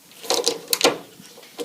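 A 10mm socket wrench ratchets in a few quick clicking bursts while the carburetor mounting nuts come off a Honda clone small engine, close up with no talk.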